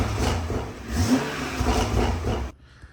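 Stock-intake BMW M340i engine revving in a garage, a steady close rumble that rises and swells around the middle before cutting off abruptly near the end.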